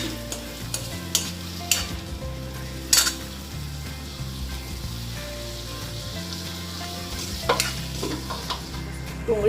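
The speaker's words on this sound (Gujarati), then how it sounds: "ડુંગળી બરાબર સતરાઈ ગઈ છે જો" Chopped onions sizzle in oil in a pan while a spoon stirs and scrapes across the metal, as they cook for a bottle gourd curry. A steady frying hiss runs beneath repeated close clinks, and no one talks.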